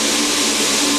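A Ruwac DS2720-EX explosion-proof 500 CFM industrial vacuum with a 40-inch hose runs loud and close, a steady broadband roar of rushing air with no pauses.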